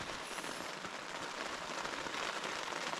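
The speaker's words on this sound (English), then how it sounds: "I'm literally just chilling, listening to it rain." Steady rain patters on a tent during a wild camp on Derwent Edge in the Peak District, a dense, even hiss of drops across the fabric with no talking.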